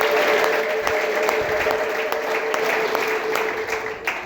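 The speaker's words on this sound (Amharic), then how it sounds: "አንዴ እልልታና ጭብጨባ እስቲ" A church congregation bursts into loud clapping mixed with a sustained high ululating cry, the applause dense and continuous throughout with a few sharper claps standing out.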